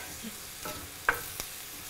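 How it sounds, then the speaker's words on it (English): Shrimp fajitas fry in a hot pan while being stirred, a soft sizzle underneath with a few scraping stirs and two distinct utensil clacks against the pan, fairly quiet and close. "stir around one more time"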